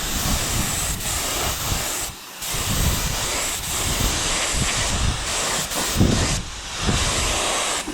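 Spray gun hissing primer onto the bare metal of a vintage dirt bike in a shop, a continuous broad spray sound in repeated bursts with short pauses between passes.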